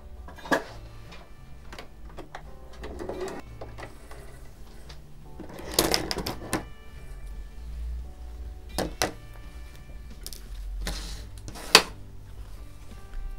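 A sewing machine stitches patchwork fabric pieces, right sides together along a marked line, in quiet bursts of rapid mechanical ticking separated by clunks and pauses, close and fairly soft.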